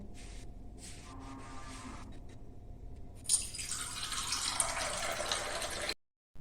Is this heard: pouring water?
yes